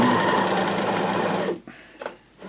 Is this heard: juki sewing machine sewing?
yes